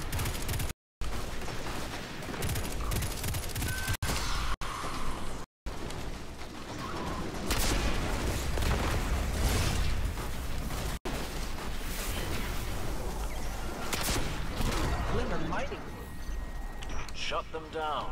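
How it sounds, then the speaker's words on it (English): Gunfire in a Destiny 2 firefight crackles in dense, continuous bursts with booming impacts, while a player talks over the shooting. "We're just running into a huge firefight here."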